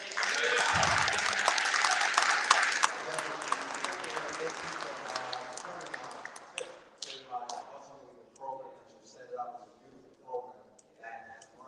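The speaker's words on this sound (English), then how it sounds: "Let's give him a huge round of applause." Audience applause at a monthly men's meeting, dense and loud for the first few seconds, then thinning out into scattered claps as voices take over.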